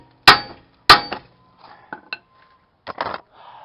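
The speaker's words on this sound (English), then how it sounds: "Give it a few good whacks right here with my big hammer." Two loud, sharp metallic whacks of a big hammer striking a steering knuckle to pop out a worn ball joint on a Toyota, ringing close by, followed by smaller clinks and knocks of the loosened parts.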